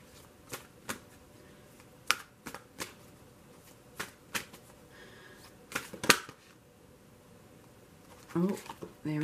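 An oracle card deck is shuffled in short bursts, each a crisp riffle or slap of cards, close and well separated, with a soft rustle near the end.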